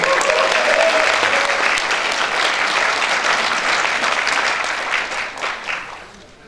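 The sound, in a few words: big applause welcoming a speaker at a party rally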